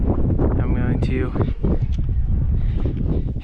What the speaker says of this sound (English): It's extremely windy, as I'm sure you can hear.